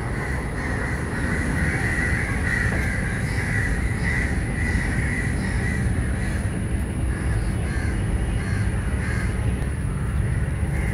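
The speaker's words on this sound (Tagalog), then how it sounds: "Pero maraming uwak." Several crows caw repeatedly in the distance over a constant outdoor rumble in Sri Lanka, their harsh calls overlapping in an uneven rhythm.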